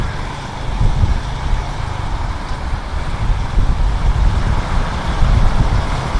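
Heavy road traffic with trucks and other vehicles in congested city streets, a loud, continuous low engine rumble and roadway roar heard close by without pause.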